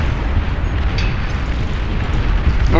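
Weapon fire and explosions rumble continuously in the real-time strategy game Beyond All Reason, a loud dense wash of deep booms and blasts with no clear gaps.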